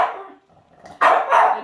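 A dog barks twice in quick succession, loud and close, after a brief lull with faint sounds, during a demonstration of giving a dog a dental treat.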